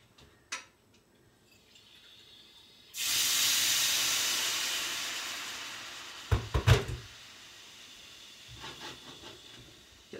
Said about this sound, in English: And this is still stir frying.